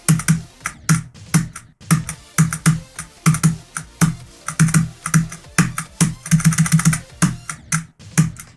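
Computer keyboard keys clacking during a game, a quick irregular stream of sharp, close taps in short bursts, with no speech.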